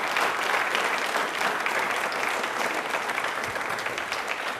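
Steady applause from an audience at a televised question-and-answer programme marking Dr Bhimrao Ambedkar's birth anniversary, a dense wash of hand claps sustained at even loudness for the whole stretch without voices.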